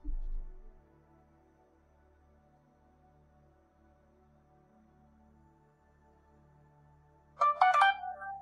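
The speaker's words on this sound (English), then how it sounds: "Phone gets loud." A phone ringtone suddenly bursts in loud and bright near the end, cutting through an otherwise quiet, faintly humming room after a brief low thump at the start.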